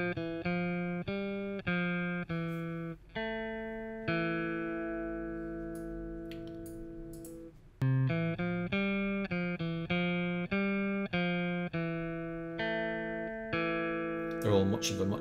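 A recorded instrument take played on the lower strings, plucked notes in short repeated phrases with a long held chord in the middle, close and moderately quiet with no talking.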